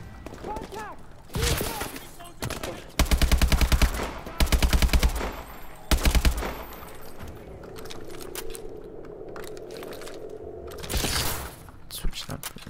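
Video game gunfire from Call of Duty: Advanced Warfare: several loud bursts of automatic fire in quick succession, with scattered shots, in-game chatter and battlefield noise between them.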